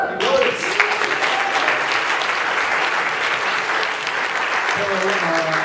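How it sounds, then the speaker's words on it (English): Sustained loud applause from a theatre audience after a recorded stage performance, dense clapping filling the room, with a few voices and cheers mixed in. "one more big round of applause for this fabulous group."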